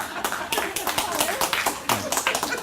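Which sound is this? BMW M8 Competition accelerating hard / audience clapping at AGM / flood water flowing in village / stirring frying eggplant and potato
audience clapping at AGM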